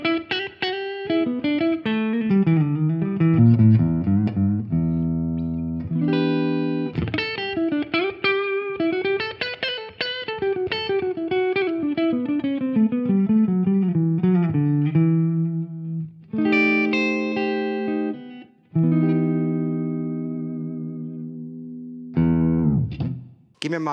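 Ibanez RGT electric guitar played through the humbucker pickup with a clean, jazzy tone: melodic single-note lines and chords with clear sustained harmonics and a short pause near the end, loud and close.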